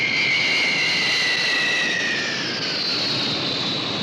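A jet airplane roars loudly and steadily, with a high engine whine that slowly drifts lower over a few seconds.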